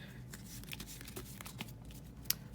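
A deck of Cardfight Vanguard trading cards being shuffled by hand, a soft, quiet run of riffling flicks and papery shuffles with one sharper snap near the end, no talking.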